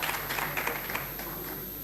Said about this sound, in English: let's give a big round of applause to the Vishwanath Iyer